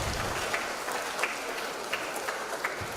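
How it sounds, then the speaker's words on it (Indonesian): Applause for a special choir at a Christmas Eve vigil Mass in a church in Merauke, a steady wash of many hands clapping with a few sharper claps standing out, moderately distant and sustained throughout. "Kita tepuk tangan untuk korin istimewa malam ini."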